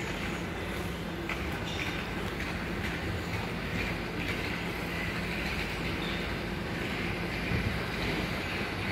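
Dense, continuous roar of a new C2 underground train on the Munich U-Bahn in motion, loud and unbroken, with a rushing, windy quality.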